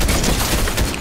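Gunfire in a video game, a dense burst of shots aimed at a player, loud and close, filling the whole second with a sharp blast at the end.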